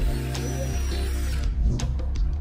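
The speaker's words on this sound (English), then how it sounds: "Prepare the shelf profile by drilling a hole in the center." A drill bit works through an aluminium shelf profile, a loud close metallic grinding hum that shifts pitch partway through, then turns into rough chattering bursts as the hole is finished; no voices.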